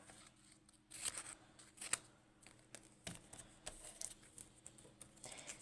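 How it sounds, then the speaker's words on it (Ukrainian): Quiet crinkling and rustling of a small paper packet being torn and opened, with sharp crackles and soft scattered handling noises up close. "І зараз давайте перше відкриємо отакий біленький пакетик."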